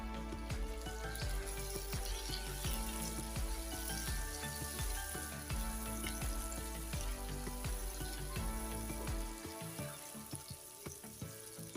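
Three medium tomatoes, chopped small, sizzle loudly in hot oil in a pan while a fish curry is cooked, giving a steady, dense frying hiss that eases slightly near the end.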